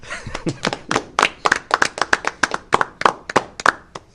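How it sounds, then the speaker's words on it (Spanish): Studio audience applause on a television talk show, a steady run of sharp hand claps at close range, fairly loud and without talk over it. "Oye, un aplauso."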